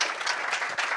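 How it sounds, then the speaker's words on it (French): Audience applause for a speaker at an artificial intelligence talk, a steady wash of many hands clapping from a moderately distant crowd, continuous for about a second. "Je vous demande de l'applaudir."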